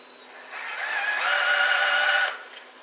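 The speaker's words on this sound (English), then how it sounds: "let's drill her up through there" A power drill whirs up and bores steadily for a couple of seconds at close range into the metal of a 1968 GTO Ram Air III exhaust manifold, with a rising whine, then stops.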